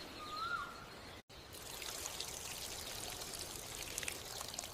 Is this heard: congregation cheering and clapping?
no